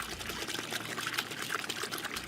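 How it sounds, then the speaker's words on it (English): Running water gushes and trickles from burst pipes in a drought-parched neighbourhood destroyed by wildfire, a steady, fairly faint splashing wash that continues without talk. "the sound of running water in a drought-parched landscape is from burst pipes"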